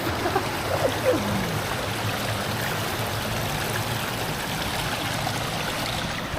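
River flowing at a fishing spot, a steady soft rushing and trickling of water, continuous and fairly faint, with a few light bumps near the start.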